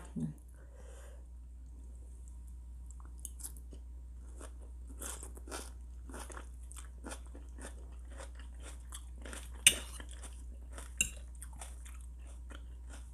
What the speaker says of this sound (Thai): แคบหมูแบบมีรสชาตินะคะ แบบเผ็ดด้วยนะ